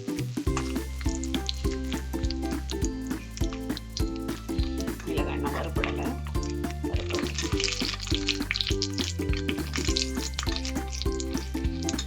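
Pickled chillies fry in a clay pot with a steady hiss and sizzle, heard over a constant backing of music.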